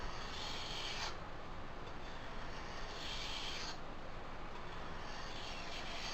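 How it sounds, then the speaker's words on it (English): A blade edge drawn along a sharpening stone, making a steady, close, gritty rasp with two brighter swelling strokes over a continuous scraping bed. "I'm just running my edge along with the stone."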